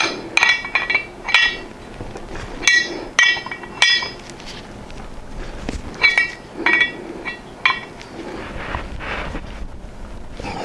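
A bearing puller bolt is cranked tight on a motorcycle front wheel, giving a series of sharp metallic clicks and ratcheting bursts in irregular clusters, close and fairly loud over a steady background rumble.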